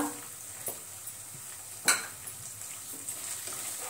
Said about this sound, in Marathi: त्यामध्ये आपण 1 वाटी वरई परतून घेऊया।